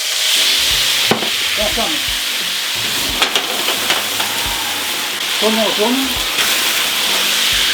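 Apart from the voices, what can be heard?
cognac poured into hot pan with steaks, sizzling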